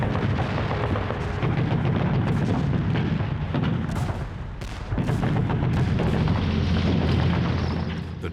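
Savage artillery and gunfire at the Gold Beach landing in Normandy, a dense continuous roar of booms, blasts and rapid shots layered loudly throughout.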